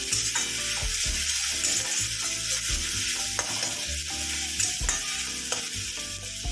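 Sliced onions for malai pabda fry in hot oil while a spatula stirs them. A close, continuous sizzle is broken by repeated scraping and tapping strokes against the pan, with no voices.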